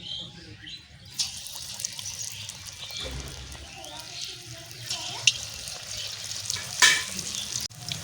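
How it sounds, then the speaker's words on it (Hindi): Pumpkin pakoras sizzle and bubble steadily in hot oil, a soft continuous frying hiss with occasional brief clinks and stirring noises, no talking over it. "पकौड़ी को हमने डाल दिया हुआ है तेल में और ये अच्छे से फ्राई हो रहे हैं"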